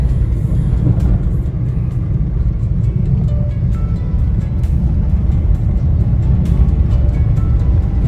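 A car in third gear at about 40 driven on a training run, with a steady loud engine and road rumble heard from inside the cabin throughout, marked by faint scattered ticks and no talking.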